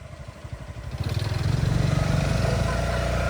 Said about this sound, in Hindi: एक और सामने से बाइक आ रही है